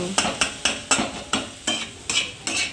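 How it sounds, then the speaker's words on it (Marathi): Potato filling for aloo paratha is stirred in a pan with a spoon, giving about nine steady, evenly spaced scraping strokes, close and clear with no talking. "आणि मग नंतर परत हलवायचं, चाळून घ्यायचं."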